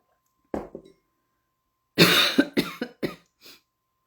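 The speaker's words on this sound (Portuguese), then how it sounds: "Desculpa que a tosse vai me pegar aqui." A woman coughs, one isolated cough followed after a pause by a loud burst of several harsh coughs in quick succession, close and dry, fading out.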